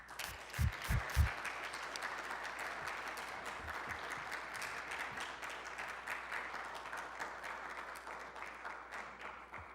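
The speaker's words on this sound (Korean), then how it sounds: "우리 선교사님 나오실 때 우리 큰 박수로 환영하겠습니다" Church congregation applauding to welcome a missionary at a Friday service, a few loud close claps at the start, then sustained moderate applause from many hands that slowly thins out.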